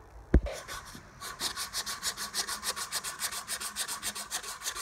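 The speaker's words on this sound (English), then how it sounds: "Sanding it, because I put the handle on there finally." Hand sanding on a homemade wooden blacksmith hammer handle, a brief knock and then a steady run of rhythmic back-and-forth rasping strokes, close and moderately loud.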